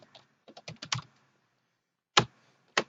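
Keys clacking on a computer keyboard while a database is written out. A quick cluster of taps comes first, then a pause, then two sharper single strokes, all close and clear in a quiet room.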